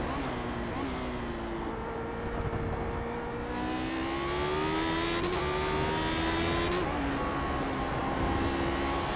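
Race cars howl around the Road America circuit, a loud sustained engine drone with rising and falling pitch as revs climb and shift, one car held close over the whole stretch with faint commentary beneath.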